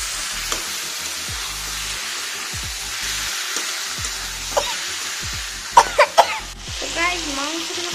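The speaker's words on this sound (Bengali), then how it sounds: "এটা এবার আমি ভাজা ভাজা করে নেবো গাইস" Chicken marinated in salt, turmeric and oil fries in a pan with a soft, steady sizzle, broken near the end by a few sharp coughs close by.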